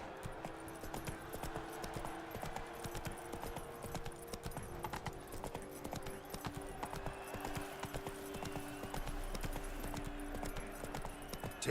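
Roach, a horse in Witcher 3, trots along with steady rhythmic clip-clop hoofbeats that continue throughout, close and clear over a faint ambient background.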